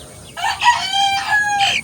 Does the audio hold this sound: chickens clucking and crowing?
yes